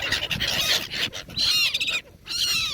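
Maya birds chirp and tweet in bright, high bursts close by, several calls in quick succession with brief pauses between them.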